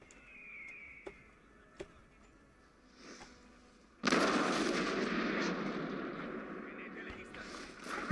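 Musket volleys in the Napoleon Total War video game open with a few sparse shots, then a sudden loud massed volley breaks out and rolls on as a dense crackling roar. Someone talks over the start.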